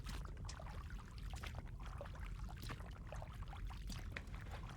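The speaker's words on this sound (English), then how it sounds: "With a splashing sound" Continuous splashing and sloshing of liquid through a sea of blood in the visual novel game Tsukihime -A piece of blue glass moon-, a dense, steady watery wash with no voices.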